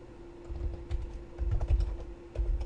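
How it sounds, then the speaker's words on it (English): Someone types on a computer keyboard, a quick run of uneven key clicks and thumps at close range over a faint steady hum, with no one speaking. "I would go ahead and launch Python by typing in something like Python"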